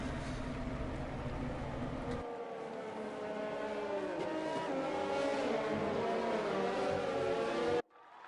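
Formula 1 race cars in an F1 video game running behind the safety car at the Singapore Grand Prix, a continuous whining engine drone with wavering pitch, a denser rumble at first, then a single car's tone before it cuts off.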